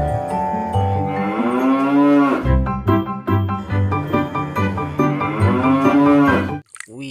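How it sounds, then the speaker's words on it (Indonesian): A cow gives a loud, long, close moo that rises and falls in pitch and lasts several seconds, then cuts off abruptly. "Wah, ini sapi teman."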